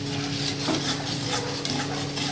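Turmeric and Kashmiri chili powder fry in oil for a gravy, a soft sizzle under repeated spatula stirs and light metal clinks against the pan, close and steady.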